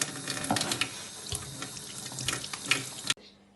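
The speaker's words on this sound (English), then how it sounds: "The first step is to wash your hands." Tap water runs steadily into a kitchen sink while hands are washed before cooking lasagna, a close, continuous splashing rush that stops abruptly just before the end.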